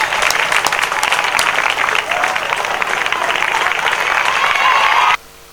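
Loud, steady applause from a crowd at a Shiva temple consecration ceremony in a village, sustained clapping that stops abruptly near the end, with faint voices mixed in.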